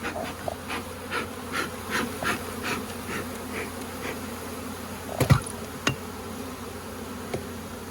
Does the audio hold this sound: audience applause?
no